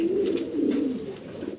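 Pigeons of Spanish and Andalusian colours coo softly nearby on their eggs and chicks, one low warbling coo rolling through and trailing off, with no voices.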